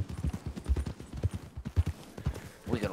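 A horse galloping in Red Dead Redemption 2, with rapid, uneven hoofbeats thudding close and fairly quiet, ending in a brief snort or whinny-like sound.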